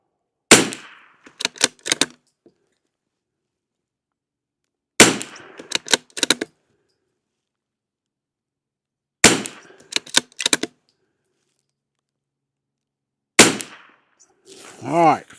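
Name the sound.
rifle gunshots firing CCI SV rounds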